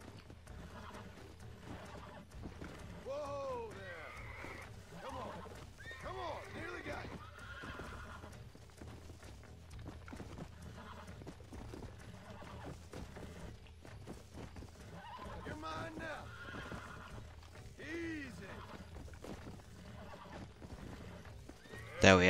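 A horse in the Xbox 360 game Red Dead Redemption neighs and whinnies repeatedly while being broken, with clip-clopping hooves and bucking scuffles throughout and a voice talking intermittently over the action.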